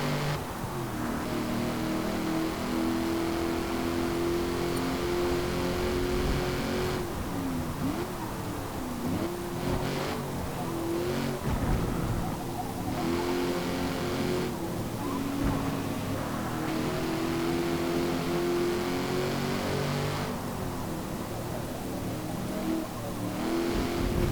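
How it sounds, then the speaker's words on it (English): A V8 race car engine in Forza Motorsport roars steadily throughout, loud and close, with rising and falling revs and brief gear-change dips, alone without talk. "See that V8 roar."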